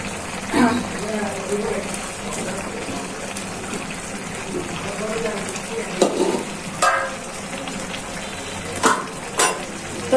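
Green chillies are tossed into pulao cooking in a pot, bringing soft sizzling and bursts of stirring and scraping, close by, with a few sharp clatters standing out between quieter stretches.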